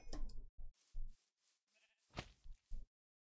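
Sheep in a video game bleat in a series of short, clipped cries, several spaced bursts separated by silence, close and clear with no talking.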